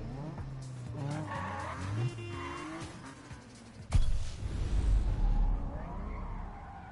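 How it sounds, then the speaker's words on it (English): Ferrari F40 racing in Need for Speed, with a steady engine drone and tire squeal giving way to a sudden loud crash-like hit and rough rumbling. "He's using a Ferrari F40."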